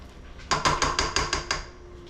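Spatula strokes scrape the sides of a mixing bowl of chocolate chip cookie dough: about seven quick, evenly spaced strokes, close and fairly loud, with no talking.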